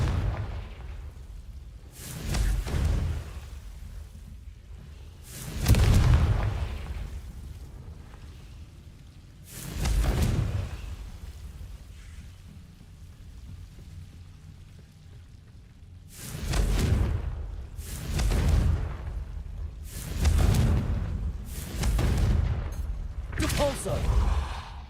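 Repeated blasting-spell explosions from the video game Hogwarts Legacy, in loud booming bursts spaced every few seconds, some clustered close together, with broadband crackle over a steady game background.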